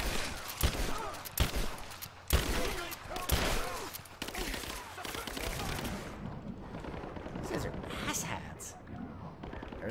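Gunfire in the video game Rise of the Tomb Raider, with a few loud sharp shots and bursts over a dense game soundscape, while a player talks over the action.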